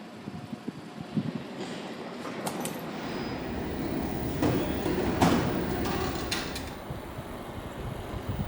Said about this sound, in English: There really is a train at this daft time of morning.